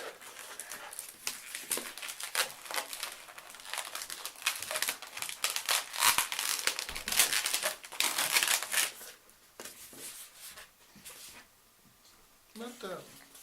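A latex balloon squeaking and crinkling as it is twisted and folded into a teddy bear balloon animal, with bursts of rubbing and squeaks and people talking now and then.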